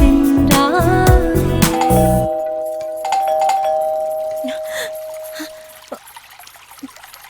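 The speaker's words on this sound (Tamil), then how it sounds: "என்னங்க எவ்வளவு நேரமா காலிங் பெல் அடிச்சுக்கிட்டு இருக்காங்க?" Doorbell rings out, loud and close, with several repeated ding-dong chimes that then fade into lingering tones and a quieter room with faint background sounds.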